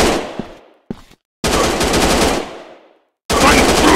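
Sniper shooting video game gunfire: heavy, loud bursts of rapid shots that cut in and stop abruptly, with short silent gaps between the volleys.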